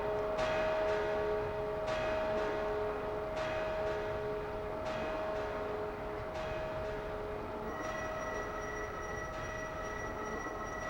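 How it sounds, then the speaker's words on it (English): The Bell of Discord from the video game Klonoa 2: Lunatea's Veil tolls in repeated resonant strikes about every second and a half, its ringing tones sustaining over a steady droning background, with no voices. "she actually activates the Bell of Discord."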